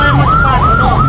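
An ambulance siren wails loud and near, its pitch sweeping up and down in a steady repeating cycle.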